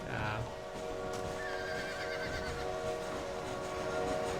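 A horse in the Xbox One game Red Dead Redemption gives a short whinny at the start, followed by a steady mechanical rumble like a train, with a voice speaking over it.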